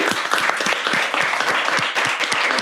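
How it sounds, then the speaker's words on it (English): An audience at a tech meetup gives a round of applause, with crisp individual hand claps close and distinct in an irregular patter that holds steady for under three seconds. "I think we should give a huge round of applause for WhatsNap and for what these two are doing."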